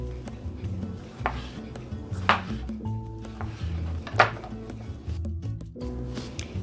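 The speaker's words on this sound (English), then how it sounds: "I'm just gonna cut them into pieces like this" Two Roma tomatoes are cut into pieces on a board, giving a few sharp knife knocks spaced irregularly among quiet kitchen handling noise, close and moderately loud, with no talking.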